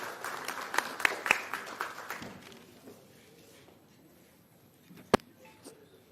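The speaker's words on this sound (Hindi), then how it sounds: "एक बार जोरदार तालियों से इनका स्वागत करें।" Audience applause at a political student-association launch event in India, welcoming a member of parliament from Punjab onto the stage; a burst of clapping that thins and fades over several seconds, with a sharp tap near the end.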